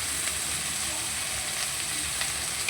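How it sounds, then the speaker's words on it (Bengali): Mixed vegetables stir-fry in a pan, giving off a steady, even sizzle that hisses softly and continuously throughout with no voices. "ভালো করে এটাকে আমি নেড়ে চেড়ে নেবো, যাতে হালকা একটু ভাজা ভাজা হয়।"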